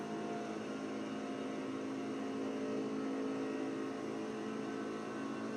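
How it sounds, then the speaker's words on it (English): A NASCAR truck engine at Daytona in iRacing holds a steady, sustained drone at an even level with no shifts or breaks, heard alone without voices. "All right, we're here at Daytona in the NASCAR trucks. Let's see how it runs."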